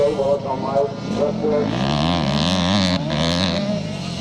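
Classic scramble motorcycles, including an 85cc KTM, ride up a street on a slippery charity course, their engines buzzing and rising in pitch as they pass close by, with commentary underneath.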